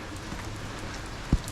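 Steady rain falls outdoors as a soft, even patter, with one brief close knock near the end and no talking.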